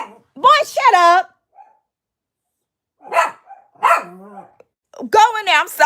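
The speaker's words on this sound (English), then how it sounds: "My dog's just barking" A pet dog barks indoors at home in a few loud, close bursts separated by silent gaps, with someone speaking between and over the barks.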